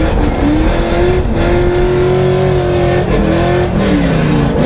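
Scion FRS drift car at full throttle with tires spinning, a loud strained engine note holding high and wavering as the revs shift, with tire squeal layered over it.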